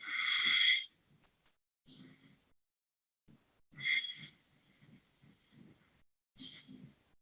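Slow breaths drawn and released through a deliberately constricted throat, heard as a few soft, raspy rushes of air separated by quiet pauses, close and faint.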